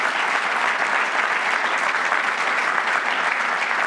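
Steady, dense applause from an audience fills the whole stretch at an even, loud level, with no gaps and no voices rising above the clapping.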